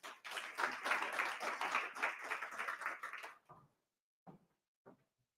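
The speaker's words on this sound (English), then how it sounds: "please give a warm round of applause for Tara and Isabel as they come up." Audience applause as speakers come up at a panel on gender and inclusion in energy transitions, a few seconds of steady clapping that stops abruptly, followed by a few isolated claps or taps.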